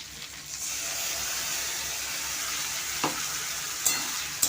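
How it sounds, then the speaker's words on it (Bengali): Potatoes and spices sizzle steadily in a pan for crab curry, a continuous close hiss broken by a few light scrapes of stirring toward the end. "ভাজা হয়ে গেলে মশলা দিয়ে আবার কষবো"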